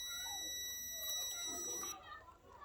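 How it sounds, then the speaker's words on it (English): A multimeter gives a steady, high-pitched continuity-test beep for about two seconds as its two probes touch, then stops, with faint voices in the background. "So if you test two of the prod, it should make a beep noise."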